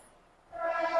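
A Mumbai local train on the Churchgate slow line pulls into the station, its loud tonal horn or brake whine rising suddenly halfway through and holding steady, close and strong over faint platform noise.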